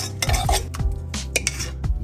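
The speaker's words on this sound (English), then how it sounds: "And then you just give it a little stir." Oatmeal in a pot is stirred with a spoon, giving several close, rhythmic scraping and clinking strokes against the pot, with no talking.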